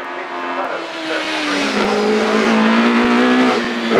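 Cosworth BDH-engined race car climbing the Shelsley Walsh hill at a British Hillclimb Championship event, its engine loud and close with rising and falling pitch as it changes gear, continuous high-revving drone.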